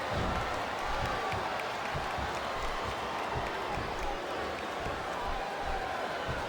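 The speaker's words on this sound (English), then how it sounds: "I cannot remember the last time I've seen a crowd this pumped up" Steady, dense roar of a large crowd cheering and clapping at a WWE wrestling event, Judgment Day 2007, continuous and loud throughout without a break.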